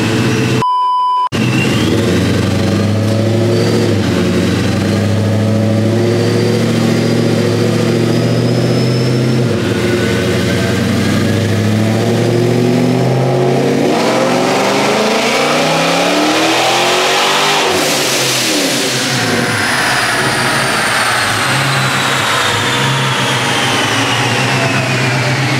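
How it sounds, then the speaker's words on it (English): A Dodge Charger Scat Pack fitted with a Whipple supercharger roars through a dyno pull after a short beep, its engine climbing steadily in pitch to a loud peak before dropping off, close and powerful. "but let's get to this dyno pull."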